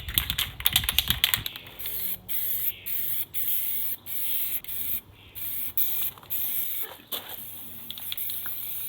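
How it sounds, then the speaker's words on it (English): Primer sprayed from an aerosol can onto a steel Sprinter van wheel, heard as a run of short hissing bursts separated by brief pauses, close and fairly loud, with faint rattles early on. "Okay, so now we're ready to go with the primer."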